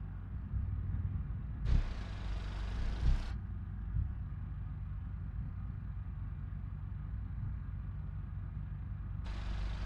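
Steady hum of car traffic in the driving game BeamNG, a line of vehicles idling and rumbling at low pitch, with a few brief louder bumps and passes rising over the continuous engine drone.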